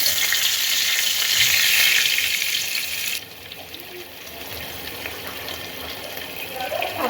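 Hilsa fish pieces go into a hot pan sprinkled with salt, setting off a loud sizzle for about three seconds that then settles into a quieter, steady frying hiss.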